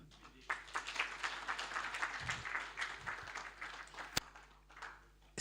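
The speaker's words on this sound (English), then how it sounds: "Members, I think we need a bigger hand clap" Conference audience clapping at a regional civil society gathering, a moderate, steady patter of many hands across the hall, fairly soft and even, with a sharp louder knock near the end.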